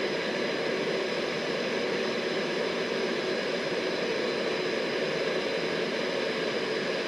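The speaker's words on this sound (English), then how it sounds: "Now this aircraft is turning a lot to the left." A Concorde in X-Plane 12 banks hard to the left in flight, its jet engines producing a constant, even roar with a hissing broadband wash that stays unchanged throughout, with no voices.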